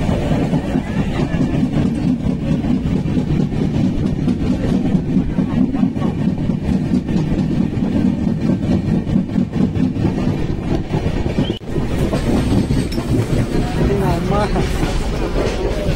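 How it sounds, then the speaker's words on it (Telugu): Steady, continuous rumble of a moving train past Bhubaneswar heard from inside a carriage, with a constant low drone and faint voices under it. "ప్రజెంట్ టైంలోనే నడుస్తుంది ట్రైన్"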